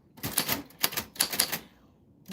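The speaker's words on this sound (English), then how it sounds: "this is what your names sound like in a typewriter" Typewriter keys clack in quick, uneven clusters as names are typed, crisp and close, followed by a brief pause and then another sharp strike at the end.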